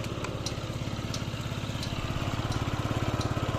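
A Yamaha Jog four-stroke water-cooled scooter idles quietly and evenly close by, a soft regular putter with faint light ticks over it, no speech.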